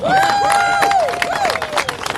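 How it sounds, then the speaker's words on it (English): A rally crowd at the US Capitol cheers and applauds outdoors, with loud rising whoops and shouts over scattered clapping, the voices swelling and fading across the short stretch. "Let's have another round of applause"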